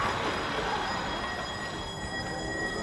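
A tram rumbles steadily past, with broadband rolling noise and faint high metallic squeal, moderately distant and continuous throughout.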